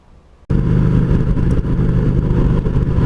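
A Suzuki V-Strom motorcycle starts moving after a brief quiet moment, and a loud, steady engine drone with wind rush fills the rest of the ride.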